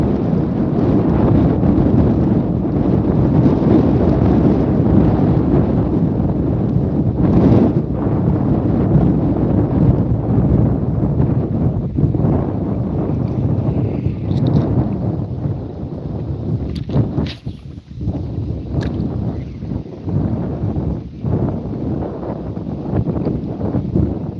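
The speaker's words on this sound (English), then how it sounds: "You said the wind is strong and you're having trouble hearing me?" Strong wind on Graham Lake in Maine buffets the microphone with a loud, continuous low rumble and roar. Gusts swell and ease, and a few faint knocks come through near the end.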